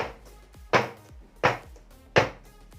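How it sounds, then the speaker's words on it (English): A cake pan filled with coffee cake batter is dropped onto a kitchen counter three times at even intervals, each landing a sharp, close thud with a short rattle. "Drop it a bit like that to remove some trapped air"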